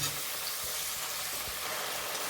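Tomatoes fry in a pan for a Bengali puti fish curry, giving a steady, soft hiss of sizzling oil with faint stirring scrapes and no voices.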